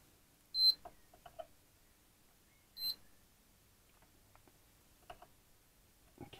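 Two sharp electronic beeps from a diode checker testing diodes on an Audiolab 8000 amplifier circuit board, spaced about two seconds apart, with faint handling clicks between them and no talking.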